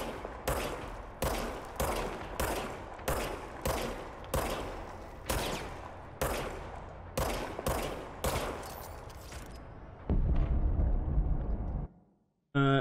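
Weapon fire in the game Control, a dozen loud, evenly spaced bursts of automatic gunfire, each a short rattling volley, followed by a sustained low rumble and a sudden cutoff.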